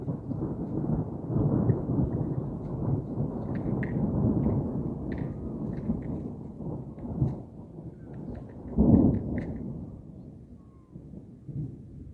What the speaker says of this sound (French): c'est le troisième orage